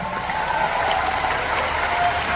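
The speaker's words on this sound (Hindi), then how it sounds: "आप सबके लिए मैं चाहूंगा कि आप सबके लिए जोरदार ताली" Audience at a live comedy show in the UK applauds loudly, a dense, steady clatter of many hands clapping with no gaps.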